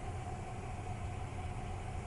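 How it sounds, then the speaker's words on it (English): A car approaching a ferry landing gives a faint, steady low engine hum with no change in level over a brief moment, quiet and somewhat distant. "Another car racing for the ferry."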